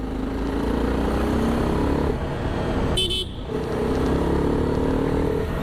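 A TVS Apache RR310 Limited Edition motorcycle hums with a steady, loud exhaust drone while riding, with a brief dip and a short high-pitched toot midway.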